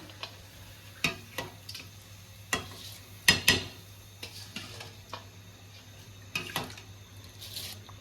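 Uncooked white rice goes into a pot of salted water at a rolling boil: irregular close clicks and taps over a steady low bubbling hiss, with no talk.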